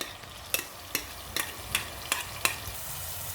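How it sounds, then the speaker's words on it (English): About four medium onions sautéing in hot oil, a steady soft sizzle punctuated by six sharp, regularly spaced clacks from stirring or tossing in the pan. "Once it starts to heat up, the oil, put in your onions."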